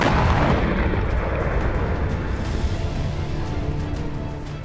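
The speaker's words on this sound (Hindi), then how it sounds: "गाड़ी जैसे ही महिला के करीब पहुंची, बटन दब गया। महा धमाका हो गया।" Bomb blast aftermath from a suicide car bombing in Karachi, Pakistan: a loud, dense roar of explosion rumble that starts strong and slowly fades, with crackling debris noise throughout.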